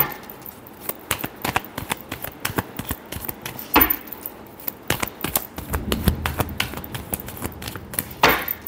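Tarot cards shuffled close by in rapid, irregular clicks and riffles, with a few louder slaps of the deck in between and no talking.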